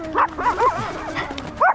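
Dogs living at a harbor on a Hawaiian beach yip and bark in short, close bursts, a couple of quick barks followed by another after a pause, with no talking.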